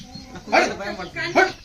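A dog gives two sharp barks close by, roughly a second apart.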